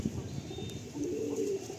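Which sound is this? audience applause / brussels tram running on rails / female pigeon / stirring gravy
female pigeon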